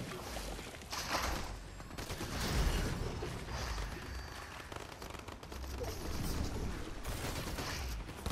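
Dense Fortnite video game gunfire rattles in rapid, continuous bursts of close shots, loud and unbroken across the whole stretch.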